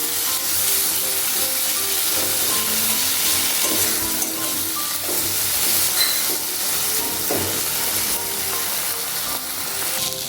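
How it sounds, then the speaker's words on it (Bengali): Tomatoes frying with ground ginger, garlic and green chilli paste in a pan for a Bengali bhetki fish curry, a steady dense sizzle and hiss with occasional stirring scrapes, close and continuous, no talking. "দিয়ে দিচ্ছি আদা, রসুন আর কাঁচা লঙ্কা একসাথে বাটা।"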